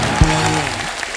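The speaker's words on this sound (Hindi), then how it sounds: "द नाइट मैनेजर की पूरी टीम के लिए जोरदार तालियां।" A TV comedy show's studio audience applauds the cast of a series, a close, loud spread of clapping with a sharp thump near the start and a tonal music sting layered underneath.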